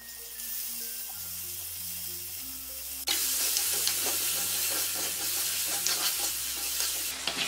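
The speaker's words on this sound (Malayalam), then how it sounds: "ഈ ടൊമാറ്റോയും കൂടി ഇതിലേക്ക് കട്ട് ചെയ്ത് വഴറ്റി കൊടുക്കാം." Chopped tomato sautéing in a pan for Kerala-style fish curry, a steady sizzle that jumps louder midway as the tomato hits the hot oil, with stirring scrapes throughout and no talk.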